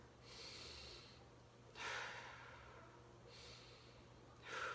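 Shallow breathing done without the diaphragm, demonstrated through two quick, airy inhale-exhale cycles that sound close and soft, with no talking.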